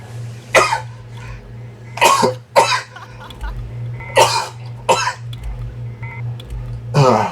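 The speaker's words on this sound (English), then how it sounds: "Yes, that was a sneeze, not a cough." Several sharp, explosive sneezes spaced irregularly over a steady low hum, close and loud.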